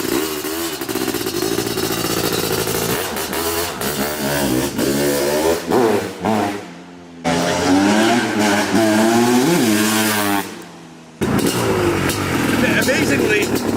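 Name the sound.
Honda CR500AF motocross motorcycle being ridden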